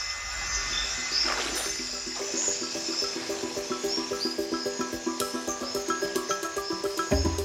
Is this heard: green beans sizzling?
no